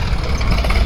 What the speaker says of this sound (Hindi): छोटा ट्रैक्टर है तो तीसरा गियर ये बढ़िया पकड़ रहा